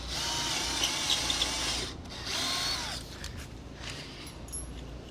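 A power drill whirs in two bursts, biting into wood with a grinding, rising whine, then fades to quieter mechanical rattling.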